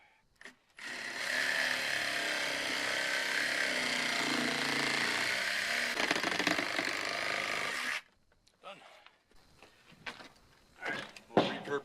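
A power tool runs loudly and continuously for several seconds, then stops abruptly, followed by scattered clatter and handling noises.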